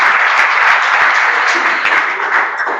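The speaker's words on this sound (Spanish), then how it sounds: "Le damos un aplauso, por favor, a Braulio, que ganó también una beca" A seminar audience applauds a scholarship winner, dense steady clapping from many hands filling the room at moderate loudness.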